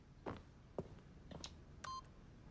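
Keypad in the video game The Stanley Parable giving a few quick electronic button beeps, spaced irregularly and ending in a brief steady tone, faint and close with no talk.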